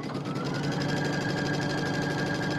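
A sewing machine stitching fabric while making tiny stitches runs as a continuous, even mechanical whir with a fast rhythmic chatter, fairly quiet and close, with no talking.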